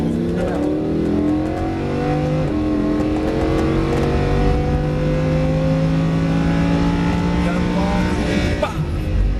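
A Lamborghini Huracan 610-4 engine revs hard on the Abbeville race circuit, its loud, close tone climbing steadily in pitch. The tone breaks sharply at two gear changes.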